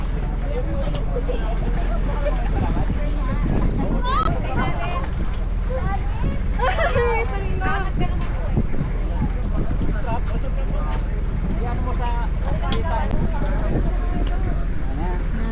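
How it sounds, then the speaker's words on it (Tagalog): Strong wind buffets the microphone in a continuous roar on a boat trip off Calaguas island, with water noise beneath and several people talking and shouting over it. "Tingnan nyo, lakas ng hangin."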